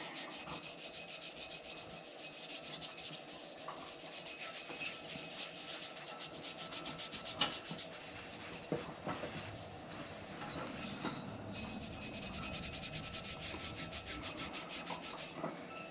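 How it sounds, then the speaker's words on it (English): A Scotch-Brite pad soaked in lacquer thinner scrubs gunk off a Nulite model 5WM lantern, giving quiet, continuous rubbing and scraping with irregular strokes and a few sharper scuffs, close but faint. "Take this Scotch-Brite and dip it in a little bit of that lacquer thinner and start scrubbing the gunk off of there."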